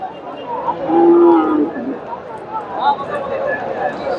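A cow gives a low, drawn-out moo amid the busy murmur of a crowded cattle market, with people talking nearby; Friesian bulls on sale at Dhaper Hat, Bogura, Bangladesh.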